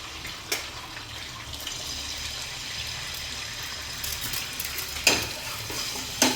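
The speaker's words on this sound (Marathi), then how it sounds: "इथे थोडं तेल टाकलं आहे मी, आणि इथे अंडे फोडून एका तव्यावर हे करून घ्यायचे." Egg bhurji sizzles steadily in oil at the side of a tawa while being stirred, a continuous close frying hiss broken by a few sharper scrapes of the spatula.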